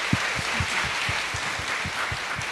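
Applause from the audience at a Korean foreign ministry information session on international organization careers, a brief, even round of clapping with rhythmic individual claps standing out up close.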